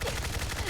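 Rapid bursts of V52 assault rifle fire in the Fallout 4 video game, a dense, continuous clatter of shots filling a brief moment.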